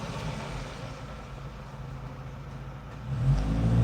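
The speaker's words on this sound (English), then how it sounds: "they need to do something about these mail trucks." A mail truck engine drives past, a steady mid-pitched rumble that swells louder near the end as the vehicle draws close.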